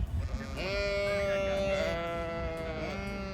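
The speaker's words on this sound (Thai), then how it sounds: "เสียงแกะก็จะร้องมาอยู่ตลอดเวลานะคะ" Sheep at an Australian sheep farm bleat in a long, wavering, nasal cry held for a few seconds, close and clear over a faint outdoor background.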